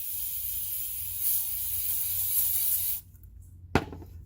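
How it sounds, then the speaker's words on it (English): Aerosol cleaner sprayed inside a car's intake manifold while cleaning the throttle body: a close, steady hiss lasting about three seconds, then a quieter pause and a brief sharp knock. "We'll spray inside"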